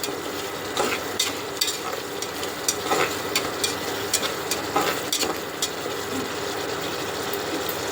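Dried nethili anchovy curry fries in oil in a pan, with a dense, continuous sizzle and repeated clicking scrapes of a spoon stirring it close up.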